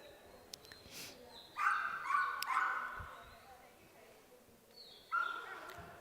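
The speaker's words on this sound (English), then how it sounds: "as you can hear, the dogs are already very excited because this is the part they love the most" Excited hunting-trial dogs bark and yip in sharp bursts, with high whimpering whines in between, fairly close in an open-air setting.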